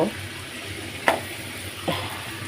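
Bread fries with a soft, continuous sizzle in a pan, broken by a few brief scrapes and stirring clicks, close by with no one talking.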